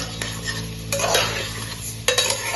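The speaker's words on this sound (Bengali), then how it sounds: "চালটা দিয়ে ভালো করে নাড়াচাড়া করে নিতে হবে।" Rice being stirred into lightly fried vegetables in a pressure cooker for paneer fried rice, a close scraping stir with sizzling underneath and a few sharper utensil knocks, no voices.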